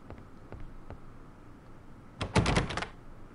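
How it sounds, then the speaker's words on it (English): A locked door in an Agatha Christie mystery game is tried: a few soft taps, then a loud burst of rattling handle clatter that won't give, heard alone. "The door, it will not budge."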